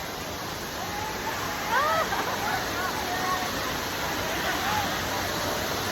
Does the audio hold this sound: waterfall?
yes